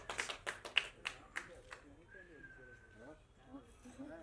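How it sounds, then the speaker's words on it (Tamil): A handful of scattered claps from an audience at the Vanji movie audio and trailer launch event, sharp and separate for about a second and a half, then someone speaks over quiet room noise. "இந்த கைத்தட்டல்கள் அனைத்தும் வஞ்சி அந்த படத்தோட டீமுக்கு தான் போய் சேரும்."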